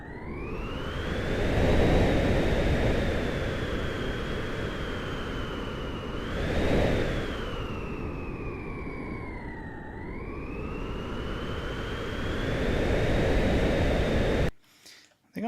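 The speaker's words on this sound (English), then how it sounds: "We are making a jet engine sound for the Flying Scout." Synthesized jet engine sound effect for the Flying Scout game, a loud continuous roar with a rising and falling whine that swells around the middle, dips, then builds again before cutting off abruptly near the end.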